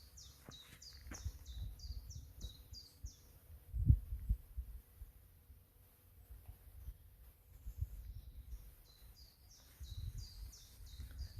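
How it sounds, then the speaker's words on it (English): Repeated high chirping phrases from birds outdoors, a run at the start and another near the end, over low rumbling background noise. "Hopefully you can hear the birds as well"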